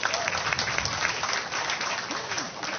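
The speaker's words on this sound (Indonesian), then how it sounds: "Boleh dong tepuk tangan yang ada di sini?" A studio audience at a televised talk show claps steadily, a dense, even wash of applause that stays close and loud for a few seconds without any talk over it.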